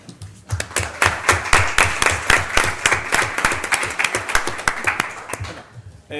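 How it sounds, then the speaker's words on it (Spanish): A crowd claps steadily for several seconds, the individual hand claps sharp and dense before fading out near the end. "Un aplauso, por favor, para él."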